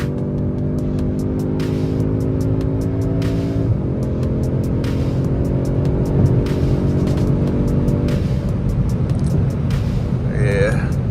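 A 2024 Audi S3 accelerates hard from inside the cabin, its engine note climbing steadily through the gears with a brief shift dip partway, loud and sustained, while a voice speaks over it near the end.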